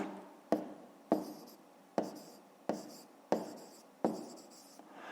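Hand writing during a fifth-grade maths exercise: six crisp pen or chalk strokes land at roughly even intervals, each a sharp scratchy onset fading quickly, close and fairly quiet with no voices.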